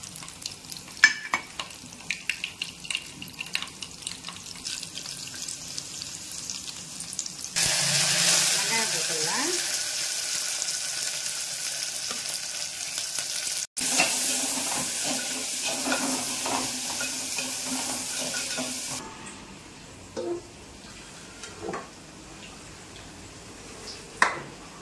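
Mustard seeds and dried red chillies frying in oil for a sambar tempering, a loud crackling sizzle that swells in bursts with stirring and pan clatter, then settles back, a voice speaking briefly between.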